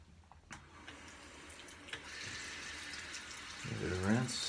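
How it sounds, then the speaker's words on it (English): Tap water runs into a sink while a razor blade is rinsed under it, a soft steady splashing close by that grows fuller toward the end, with a voice briefly heard over it. "Give it a rinse. Yeah, it's still a little thick. It's clinging to the blade."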